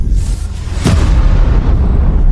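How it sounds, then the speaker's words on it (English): A huge dinosaur-killing asteroid impact explosion, rendered as a loud deep boom with a sharp burst near the start, then a heavy continuous rumble that stays strong to the end. "The energy released from the explosion was equal to 10 billion nuclear bombs."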